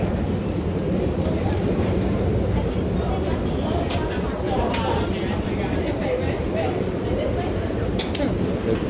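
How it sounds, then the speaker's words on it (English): PATH train running on rails near Exchange Place, a steady loud rumble of wheels and car noise throughout with faint chatter mixed in. "this is the PATH train"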